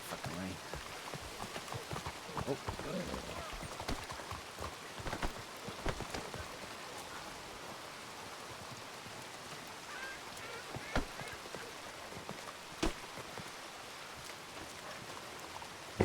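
Steady rainfall in the WildRP roleplay game, a continuous hiss of drops on surfaces with scattered sharper patters, running under men's casual conversation throughout.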